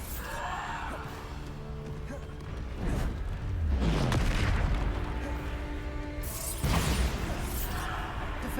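Bombarda explosion spells go off in Hogwarts Legacy combat, a few deep booming blasts with rumbling tails spread through the stretch over rhythmic music and other battle noise, moderately loud.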